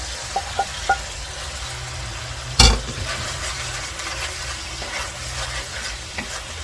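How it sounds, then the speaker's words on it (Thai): Vegetables stir-fry for fried rice in a pan, giving a steady sizzling hiss. A spatula clinks a few times and scrapes with one sharp clatter, and no one speaks. "ผักลงไปผัดนะคะ"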